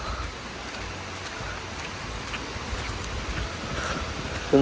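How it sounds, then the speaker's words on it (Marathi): Light rain falling outdoors in the Konkan countryside during the monsoon, a soft steady wash of fine patter with no clear drops standing out, fairly faint and even, with no talking. "पाऊस बारीक आहे"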